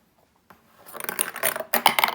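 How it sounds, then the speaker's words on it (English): Plastic balls rattling and clattering down through a chute on a children's busy board activity toy, a quick run of close, bright knocks and clicks after a short moment of quiet. "Put the balls in here and they come out there."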